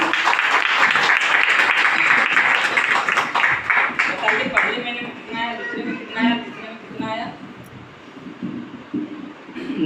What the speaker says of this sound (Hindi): आप लोगों के जोरदार ताली के बीच आई बात मर्तुज आलम जी।